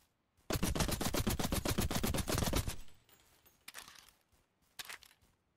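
Rapid automatic gunfire in the battle royale sports game KOMPETE, a sustained loud burst of closely spaced shots followed by quieter scattered bursts after a pause.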